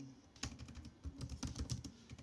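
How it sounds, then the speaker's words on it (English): Fast typing on a computer keyboard, a dense run of light clicky keystrokes at an uneven rhythm, close and clear with no voices. "I'm just typing in the chat if you were confusion."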